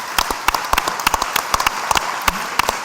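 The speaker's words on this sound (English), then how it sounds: "So can I just get you to keep clapping and thank our guests, please." Audience clapping at a public conversation event on democracy, a smaller crowd with loud, distinct individual claps close to the microphone over a softer bed of applause, irregular and lively.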